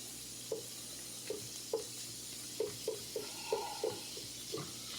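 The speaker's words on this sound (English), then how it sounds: "Try to cook your pepperoni so they all don't stick and clump up." Pepperoni frying in a pan gives a soft, steady sizzle, punctuated by a series of light, irregular scrapes and taps as the slices are stirred and moved around.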